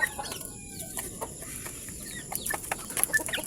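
Chickens on a small farm cluck and call in scattered short bursts at feeding time, a steady mix of nearby fowl sounds with a faint high background hiss and no talking.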